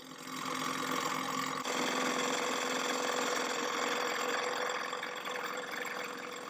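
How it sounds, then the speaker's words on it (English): A small homemade DIY Stirling engine runs steadily with a continuous, close mechanical whir and fine rapid ticking, holding an even level throughout. "This is the DIY Stirling engine from Schwino Star."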